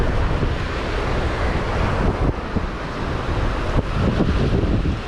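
Ocean waves rolling onto a Sri Lanka beach under strong wind, a dense steady roar of surf with heavy wind buffeting close to the microphone.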